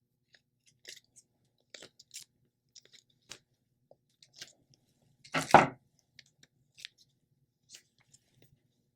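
Scissors snip slits into a craft Christmas ornament, faint scattered clicks and small cuts spread across the quiet, with one louder, longer crunching cut in the middle and no talk.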